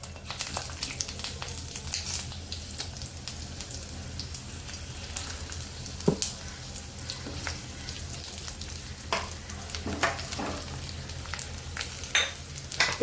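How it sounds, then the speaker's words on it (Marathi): Halved onions frying in oil, a steady soft sizzle with scattered crackles and pops, fairly close, with no talk. "आपण ह्या तेलामध्येच आपलं कांदे वगैरे भाजून घ्यायचे."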